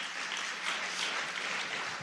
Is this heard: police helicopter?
no